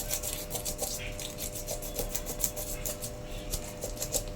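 A knife cuts the head off a varal (snakehead) fish being prepared for a Kerala-style fry, giving repeated close rasping, scraping strokes in an even rhythm at moderate loudness.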